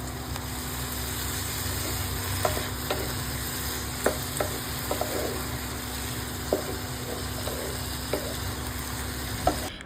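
Prawns cooking covered in a pan over medium heat give a faint, steady sizzle, with occasional soft clicks and taps from the pan and a constant low hum in the room.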